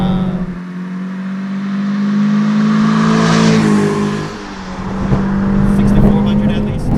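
A 2003 Toyota MR2 Spyder engine revs up through the gears toward about 7,000 rpm, rising and dropping in pitch with shifts, loud and close from inside the car, with people talking over it.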